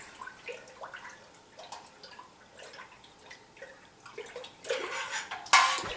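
Honey stirs into water for mead, making soft liquid swirls and small drips with light clinks against the container, growing louder and busier toward the end.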